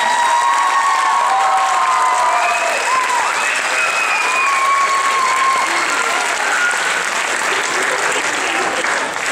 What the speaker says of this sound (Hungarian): Egy nagy tapsot azt gondolom, hogy ők is.